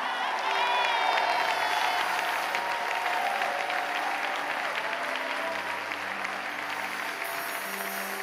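Church congregation applauding and cheering for a visiting reverend during a live service, steady dense clapping with crowd voices sustained throughout at close range.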